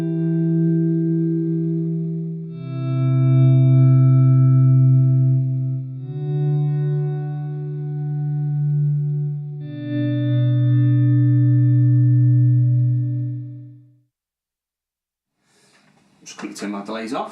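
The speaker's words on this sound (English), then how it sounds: "I'll just put the Kilobyte on now, so you've got the two combined." Guitar swells through two combined delay pedals, one a Kilobyte, each note fading in slowly and sustaining with smeared echoes for about fourteen seconds, followed by brief silence and then someone talking.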